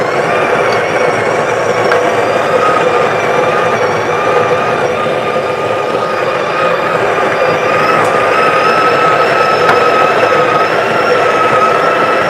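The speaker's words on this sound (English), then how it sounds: "I mean, the grinder is not bad, guys." A Breville Barista Pro espresso machine's built-in grinder grinds coffee beans in manual mode, a steady, loud, continuous whirring drone with no break and no voices.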